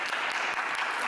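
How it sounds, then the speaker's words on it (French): A short burst of studio audience applause, many hands clapping together steadily, on a dating game show. "Applaudissez-le, s'il vous plaît"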